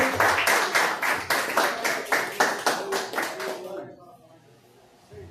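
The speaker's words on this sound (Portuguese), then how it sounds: "aplauda o Senhor" Church congregation clapping together in a strong, steady rhythm of loud, evenly spaced claps under voices, then stopping abruptly and leaving a quiet room.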